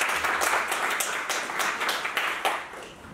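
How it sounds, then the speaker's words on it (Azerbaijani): Audience applause for a guest at a youth event, a lively stretch of quick overlapping hand claps, fairly close and steady, easing slightly toward the end. "Aslan müəllim alqışlar."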